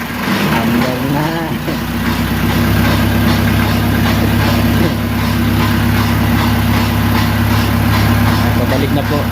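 Loud, steady tram engine drone with a low hum and constant vibration, heard aboard, running continuously throughout.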